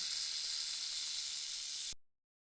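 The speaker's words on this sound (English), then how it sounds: "Snake." A snake hisses in one sustained, airy hiss held for about two seconds before stopping suddenly, alone and moderately loud.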